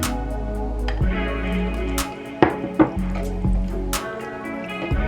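Onions and green peppers simmer in turkey wing gravy, a steady soft sizzle and bubble punctuated by a few sharp clinks and scrapes of a utensil against the pan, with no talk.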